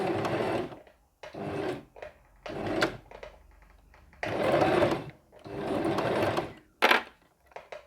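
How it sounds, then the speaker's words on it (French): A sewing machine stitches piping in repeated short runs, pausing between each burst and reversing for backstitches, with clicks and handling noises in the gaps. "je fais toujours mon point arrière."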